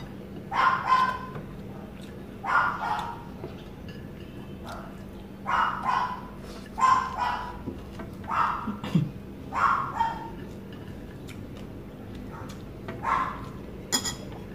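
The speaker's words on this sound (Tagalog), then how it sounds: "Marami kasing aso sa baba. Kaya pag nagmumukbang ako, lagi ako may background na aso." Dogs bark in repeated short bursts, several barks in a row with brief pauses, moderately close and clear over a quiet background hum.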